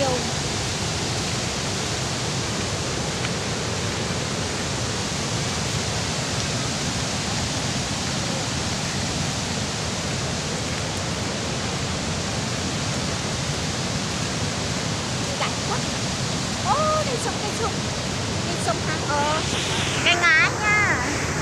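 Steady, dense roar of the Draynur waterfall swollen after rain, a broad rushing wash of falling water filling the whole clip, close and loud, with faint brief sounds near the end.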